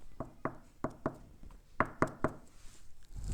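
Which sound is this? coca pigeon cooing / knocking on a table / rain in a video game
knocking on a table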